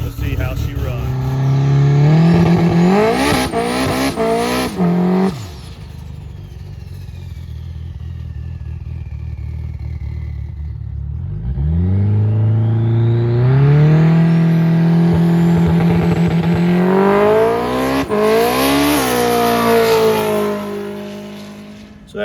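A Honda S2000 race car on a test pass at an airport, its engine revving hard through rising gears, dropping away midway, then roaring back loud and close as it accelerates again.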